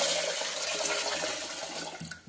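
Running cold water splashes steadily as lentils are rinsed under a tap, cutting off near the end.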